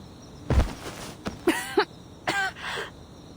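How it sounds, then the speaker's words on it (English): A woman coughs in the Reverse 1999 video game, a few separate throaty coughs and throat clearings spread over a few seconds, close and fairly loud with quiet between them. "She coughs and a small trickle of blood escapes her lips."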